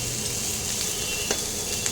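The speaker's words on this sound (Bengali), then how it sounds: "পেঁয়াজ কুচিগুলো একটু ভাজা ভাজা করতে হবে" Chopped onions sizzle in hot oil in a pan, a steady close crackle that holds evenly throughout, with a couple of faint clinks.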